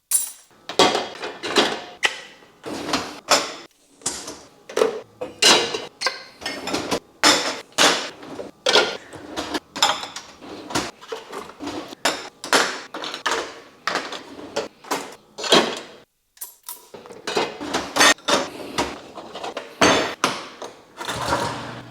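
Dishes, pots and cutlery clattering and clinking as they are loaded into a home dishwasher, with dense, irregular clanks and knocks continuing close by for the whole stretch, broken by a brief quiet pause, with no talking.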